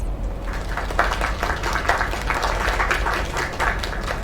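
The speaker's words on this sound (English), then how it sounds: "Another round of applause." A video game crowd applauds steadily and loudly throughout, a dense wash of clapping with no pauses.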